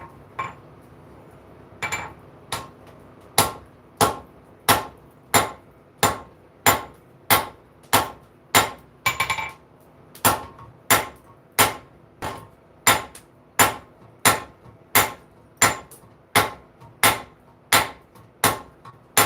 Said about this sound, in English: Start cutting that using the anvil.